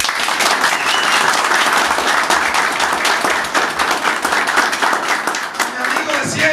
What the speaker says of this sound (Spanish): mi hermano Octavio Mariñez de Villogando, para el cual yo quiero un fuerte aplauso